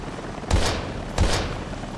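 Two heavy gunshots in the video game Daymare 1998, about half a second apart, each a booming blast that trails into a rumbling decay over a constant background hum.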